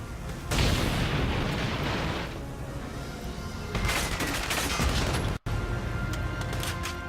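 Gunfire in the video game Valkyria Chronicles 4 comes as two loud, dense bursts of rapid shots and booms, each lasting a couple of seconds with a brief cut between, and no talking.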